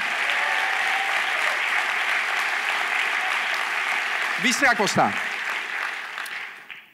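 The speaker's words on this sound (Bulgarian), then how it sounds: "трябва да я ръкопляскаш по-силно" A church congregation applauds loudly and steadily through most of the moment, with a voice briefly rising over the clapping near the end before everything fades out.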